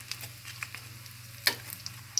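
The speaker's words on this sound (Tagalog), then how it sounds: "Prito ko na lang siya ganito." Turon, banana spring rolls, frying in hot oil: a faint, steady sizzle over a low hum, with a few soft crackles and pops scattered throughout.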